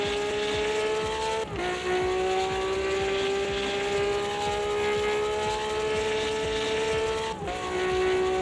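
A race car engine in the sim racing game Automobilista 2 screams at high, steady revs down a straight, shifting gears twice with brief dips, loud and sustained.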